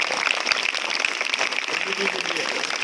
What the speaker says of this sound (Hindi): तो एक बार जोरदार ताली बजाओ